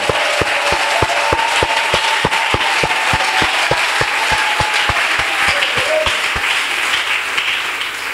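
Crowd applause at a church convention in Bouna, a dense steady roar of clapping over a regular low thumping beat, like a drum, continuing throughout without fading.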